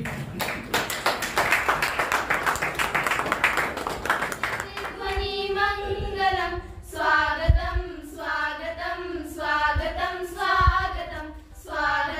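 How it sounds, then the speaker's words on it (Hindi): At a pre-vocational training welcome ceremony in Panchkula, a crowd claps in a dense, lively burst for several seconds, then the clapping stops and a voice takes over, with a few scattered claps later. "तालियां बजाएं आप सभी।"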